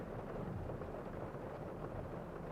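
Thunder rolls as a sound effect in a Korean audio drama, a dense, steady rumble with rain-like hiss, loud and continuous, with no voices over it.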